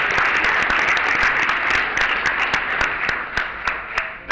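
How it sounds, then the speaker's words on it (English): Convention audience applauding steadily, dense clapping from a crowd filling the room at a constant level, with a few louder individual claps standing out near the end. "please give yourselves a round of applause for joining us"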